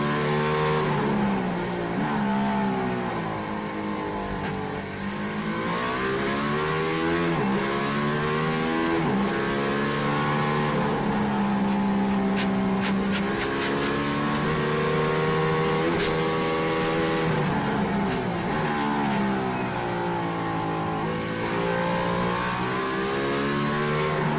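A race car's engine revs and shifts through gears at high pitch, loud and sustained, rising and falling in repeated sweeps as it accelerates.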